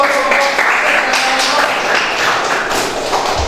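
Classroom audience clapping after a group presentation at a teacher-training university session, a dense burst of close hand claps lasting a few seconds.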